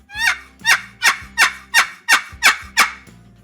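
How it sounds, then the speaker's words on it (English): A wooden turkey box call is worked to produce hen yelps: eight sharp, evenly spaced raspy notes in a quick rhythmic cadence, loud and close, with no talking. "So right there, you're making a hen yelping noise."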